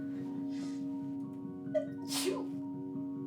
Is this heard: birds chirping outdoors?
no